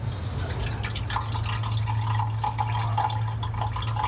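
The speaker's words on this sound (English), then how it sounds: "To that I'll be adding approximately 100 mils of water in order to dilute the solution" Water poured into a small batch of chemical solution to dilute it, making a steady close trickle with light dripping accents over a constant low hum, no voices.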